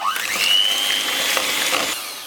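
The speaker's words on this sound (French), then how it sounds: "on va pouvoir fouetter jusqu'à épaississement complet" An electric whisk whirs steadily as cream is beaten until thick for a chocolate Easter cake, its motor pitch rising at the start and then holding a continuous high whine that fades slightly near the end.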